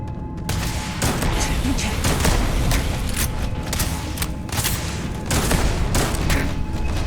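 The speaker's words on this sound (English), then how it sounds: "I am opening fire." Sustained video-game gunfire in Starfield, rapid repeated shots and mechanical clatter filling the scene loudly and continuously, with no talking.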